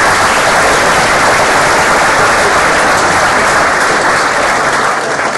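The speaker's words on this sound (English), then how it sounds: "so a round of applause" Loud, sustained applause from a school election debate audience, a thick wash of many hands clapping at once with no letup from start to finish.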